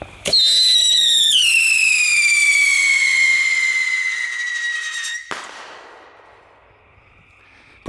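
A reloadable girandola firework, a ghost flyer, launches with a sharp pop and then gives off a loud, steady, slowly falling whistle for several seconds. A crackling burst near the end lets the whistle fade away.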